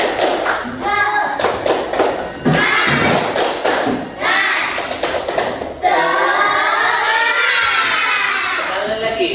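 Schoolchildren in an Islamic religious education class perform a rhythmic tepuk semangat clapping chant, bursts of sharp claps and thumps alternating with loud shouted chanting from the group, close and energetic.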